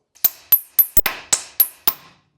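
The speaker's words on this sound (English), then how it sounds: "grab our tie rod fork and a hammer and separate this bad boy from the knuckle" Sharp metal hammer blows on a tie rod fork, driven in to split a worn tie rod from the steering knuckle of a MINI Cooper: eight close, ringing strikes in a steady rhythm with no talk.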